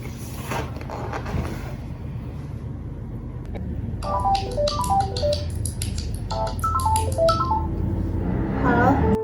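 A phone number is dialed on a telephone in a short film: a quick run of clear touch-tone beeps in two bursts over a low, steady background hum, with a ringing chirp near the end.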